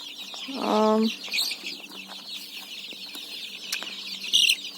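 Young chicks, three or four days old, cluck and peep nearby, one louder burst early on, then softer scattered calls over a steady high-pitched buzz.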